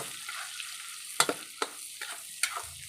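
Meat cooking in a pan while it is stirred, with a soft sizzle under a few sharp scraping clinks of a utensil against the pan, close and fairly quiet.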